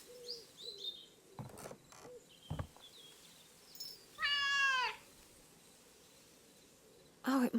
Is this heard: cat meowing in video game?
yes